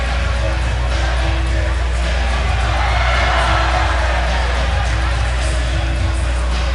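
A crowd cheers and roars at a high school basketball game between Centennial and Bishop Carroll, a loud, continuous wash of voices and whoops filling a gym, steady throughout with a constant low hum underneath.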